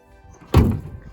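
A single solid thunk of a car door shutting on a 1965 Ford Mustang, one short, close, heavy impact with a brief dull decay and quiet surroundings.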